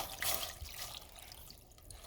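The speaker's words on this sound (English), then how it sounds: "going to add half a cup of distilled water or filtered water" Distilled or filtered water poured into a container for hot sauce makes a faint, soft trickle with a few light drips, heard alone and fairly quiet.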